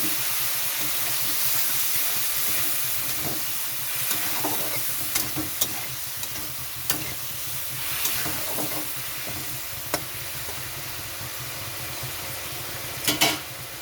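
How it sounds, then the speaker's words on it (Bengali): Spice masala in a pan sizzles and hisses steadily after water is added, a constant frying hiss broken by occasional sharp spatters and light scrapes of a spoon. "এখানে আমি একটু জল দিয়ে দিচ্ছি মশলাটা ভালো আরও কষানোর জন্য"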